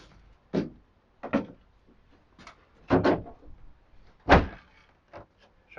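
The bonnet of a Jaguar XF is lowered and shut several times during fitting, giving a series of dull, close thunks and light metallic knocks spaced irregularly apart.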